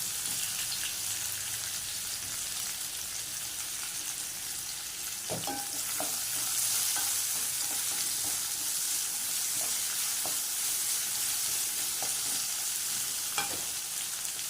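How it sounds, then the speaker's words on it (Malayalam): Potatoes sautéing in a pan for potato masala, a continuous close sizzle broken by scraping stir strokes and occasional clinks, with no talking. "ചെറുതായിട്ട് വഴറ്റിയാൽ മതി."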